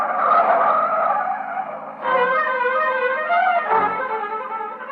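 Radio-drama sound effect of a car driven hard and angrily: a revving engine with squealing, skidding tyres in two or three loud surges, close and continuous, with no voices.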